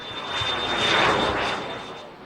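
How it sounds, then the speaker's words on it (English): Model jet engines roar with a steady high-pitched whine, swelling louder then fading as they fly past at a distance. "You can hear the jets in the background burning fuel"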